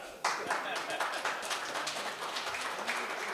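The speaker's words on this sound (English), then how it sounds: "Give her a round of applause" Audience at a small business town hall meeting applauding an MP being welcomed to the stage, steady clapping from many hands at moderate distance, with some talk mixed in.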